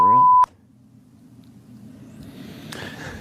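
A single loud telephone keypad tone sounds briefly at the start, followed by quiet line hiss and faint distant phone audio as messages are checked.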